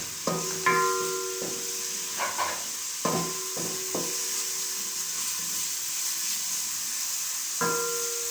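Ginger and garlic sizzle in hot oil for Chinese pulao while a utensil stirs and scrapes the pan in a few short bursts. A steady frying hiss runs underneath, and there is no talking.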